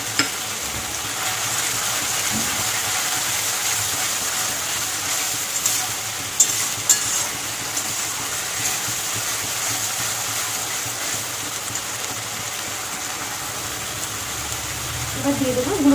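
Grated tomato frying in a pan, a steady wet hiss and sizzle running throughout at even loudness, with a few faint clinks and stirring sounds near the end.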